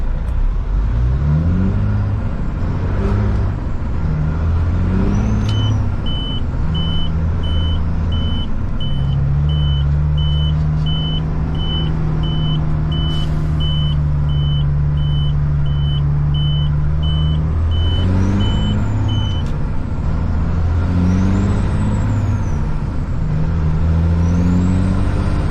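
A heavy truck with a Caterpillar C-15 engine, automated gearbox with clutch, delivering a forklift mast, drones steadily and loudly as it drives, with shifting low engine tones and occasional air-brake hisses and beeps throughout.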